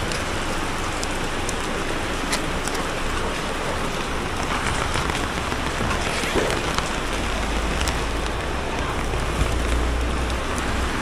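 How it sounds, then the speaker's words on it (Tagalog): Steady rainfall in Caloocan, Philippines, a dense, even hiss of drops on surfaces with low rumble of nearby traffic, continuous and fairly loud with no talking. "Nabutan tayo rito sa Caloocan ng ulan."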